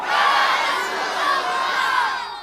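A large crowd at a religious gathering for Eid-e-Milad-un-Nabi shouts Nara-e-Takbir in unison, a loud sustained roar of many voices rising together, swelling and slightly fading over a couple of seconds.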